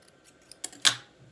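Scissors trim seam allowances from fabric with a few crisp, close snips, the last one loudest, in an otherwise quiet room.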